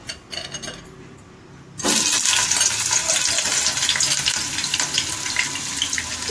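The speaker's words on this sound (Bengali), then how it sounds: "এবার সর্ষের তেলটা গরম হয়ে গেছে তার মধ্যে আমি এঁচড়গুলো দিয়ে" Chunks of young green jackfruit drop into hot mustard oil, a quiet pause giving way abruptly to a loud, dense, crackling sizzle that holds steady and close with bright spattering pops.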